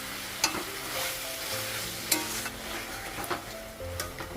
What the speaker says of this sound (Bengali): তো বেগুন আলুটা কষে নেবো